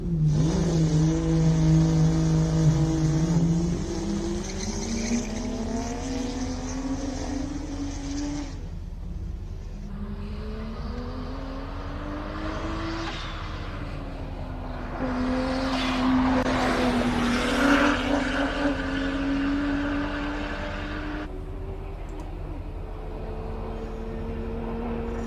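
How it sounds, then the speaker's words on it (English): A twin-turbo BMW 335 race car climbs a hillclimb course, its engine rising through the gears with a wastegate hiss and flutter between pulls as it accelerates uphill, loud and fairly close. "So I mean, you could hear that wastegate opening."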